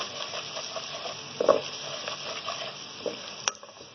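Masala with red chili powder and chili flakes being roasted in a pan for kaleji, a soft, steady sizzle and hiss with scattered clicks of stirring and a few sharper pops.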